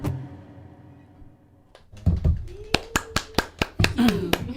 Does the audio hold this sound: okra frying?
no